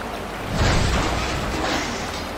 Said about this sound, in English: Floodwaters show no mercy.